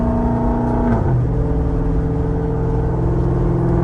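A straight-piped Dodge Charger R/T engine rumbles and revs loudly and continuously from inside the car, its pitch sliding lower partway through, with no voices.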